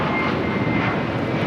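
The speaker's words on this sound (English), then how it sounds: "Next takeoff here on the south side is JetBlue Airways Flight 2885 heading to Miami. It's an A321." A JetBlue Airways Airbus A321 roars down the south runway at LAX on takeoff for Miami, its jet engines producing a loud, dense, sustained rumble close by with no voices over it.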